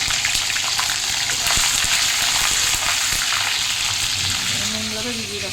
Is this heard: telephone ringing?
no